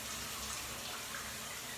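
Steady, broad rushing water rinses soap off a surface, a continuous close hiss with no breaks or talk.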